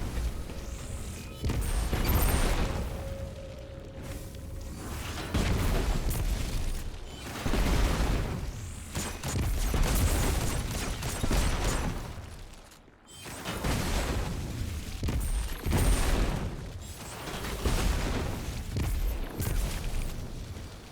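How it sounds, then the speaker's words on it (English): Grenade blasts and shield strikes smashing stone brick barriers in Destiny 2, a dense run of loud booming impacts and crumbling bursts that repeat in waves with brief gaps, close and continuous. "We got to get through all these weird bricks, stone that we have to destroy with our shield and our grenade."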